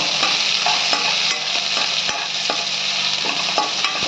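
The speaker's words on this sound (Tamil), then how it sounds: "ரெண்டு பச்சை மிளகா ரெண்டு பல் பூண்டு எல்லாம் நல்லா வதக்கிக்கிங்க" Green chillies and garlic cloves with small onions sizzle in an oil-filled pan, a continuous hiss cut by frequent sharp scraping stirs of a spatula, close and loud, with no talking.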